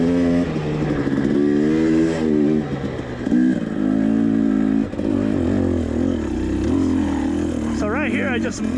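A two-stroke dirt bike, a Beta 300 RR or a 250i, revs hard and climbs rough terrain. Its close, loud engine rises and falls through repeated bursts, with a rider's voice faintly mixed in.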